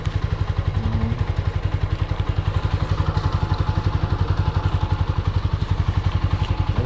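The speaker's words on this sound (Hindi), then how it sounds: "बाइक कोल्ड स्टार्ट भी हो गई है." Motorcycle engine idling steadily after a cold start, a close, loud, even rapid thumping pulse running throughout with no talk.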